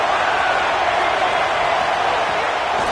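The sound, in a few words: home crowd cheering loudly at a college football game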